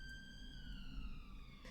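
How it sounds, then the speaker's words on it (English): An emergency vehicle siren wails steadily and fairly loud, its pitch sliding slowly downward as it passes by over a constant low background rumble. "I'm just going to let that siren go past."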